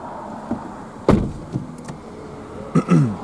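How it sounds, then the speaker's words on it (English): An Audi A5 car door thuds shut nearby with a solid, muffled knock, surrounded by a few lighter clicks and rustles inside a quiet cabin. "Jumping inside, we'll close the door."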